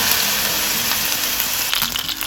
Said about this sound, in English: now we're going to cook off these calamari rings